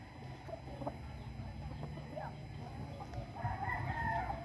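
A rooster crows over steady low rumble at a farm site, its call rising toward the end of the stretch and sounding moderately close amid the background noise.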